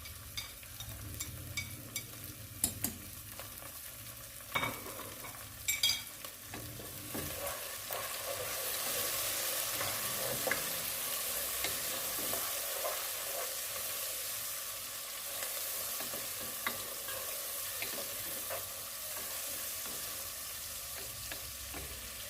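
Tomatoes and green chillies fry in a pan for Hyderabadi-style khatte baingan, giving a steady sizzle with a few sharp clinks of stirring early on, and the frying hiss swells and stays constant.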